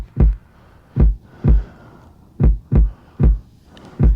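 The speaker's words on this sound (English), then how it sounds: "It sounds like someone hit a kick drum with like a stick, but there was a towel." In a music production, a muted kick drum hits seven times in an uneven rhythm, each thump soft and dead with a short low bounce, close and dry with nothing else playing.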